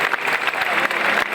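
A crowd applauds steadily and loudly as a religious procession carrying the Blessed Sacrament leaves a cathedral in Murcia, the clapping close and continuous throughout.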